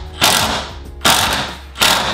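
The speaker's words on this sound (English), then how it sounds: "to actually tighten that down, I'm gonna use a 9/16 inch wrench. Now we're going to tighten down our two bed bolts." A 9/16 inch wrench tightens the bed bolts on a Toyota Tacoma pickup, giving three sharp, close ratcheting clicks at a steady pace.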